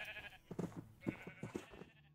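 Sheep bleat in the Minecraft video game, several short wavering calls in quick succession, moderately loud over a faint game background with no talking.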